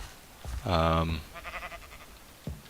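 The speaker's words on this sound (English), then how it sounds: "So far, the only sign of life is a sheep" A Minecraft sheep gives one short, nasal bleat, followed by a fainter wavering bleat, with someone talking quietly around it.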